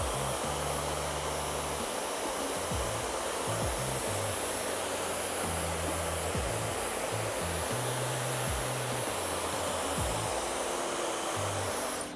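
A hair dryer blows steadily on hair during a mid-length haircut in a salon, a loud continuous airy roar that holds for the whole stretch with no talk.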